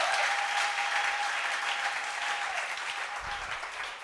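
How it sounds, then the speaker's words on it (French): A church congregation bursts into loud, sustained applause during a sermon, a dense wash of clapping from many hands that tapers slightly toward the end. "Acclamez pour vous, s'il vous plaît."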